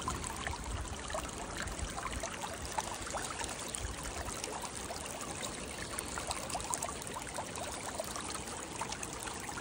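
A stream runs gently and steadily, a dense even wash of flowing and trickling water close by, with no voices and no change in level throughout.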